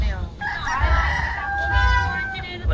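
Chickens with a rooster crowing nearby, a drawn-out cock-a-doodle-doo standing out over low rumbling background, with people talking quietly under it.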